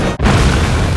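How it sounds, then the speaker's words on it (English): An explosion from Star Wars: The Force Awakens booms with a deep, heavy rumble after a brief dip, loud and sustained through the second with no voices. "Star Wars has never really had any trouble when it comes to explosions, but these all just feel so impactful."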